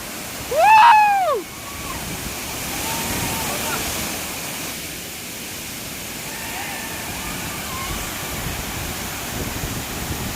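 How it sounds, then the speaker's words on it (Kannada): Goyar Falls, a hidden waterfall near Karwar, gives a steady broadband rush of falling water throughout, with a brief bird-like chirping call near the start and no talk. "ಮಸ್ತ್ ಆಗಿದೆ ಫಾಲ್ಸ್."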